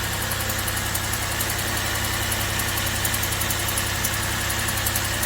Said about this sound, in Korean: 엔진에서 소리도 나는 것 같고